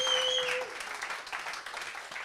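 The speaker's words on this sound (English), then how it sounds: "Some bigger applause." A livestream event audience breaks into applause, a fairly short, steady wash of clapping heard at moderate distance, with a brief electronic tone at the start.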